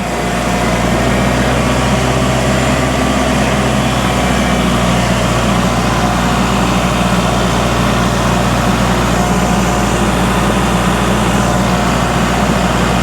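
A tractor with roughly 2,000-pound lifting capacity runs steadily while turning around, its engine a constant loud drone close by, with no speech over it.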